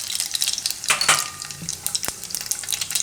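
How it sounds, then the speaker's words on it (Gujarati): Mustard seeds go into hot oil in a Gujarati home kitchen, giving a crackling, spattering sizzle with sharp pops, heard up close with no talking. "તો તેલ આપણું ગરમ થઈ ગયું છે, એમાં પહેલાં રાઈ નાખીશું."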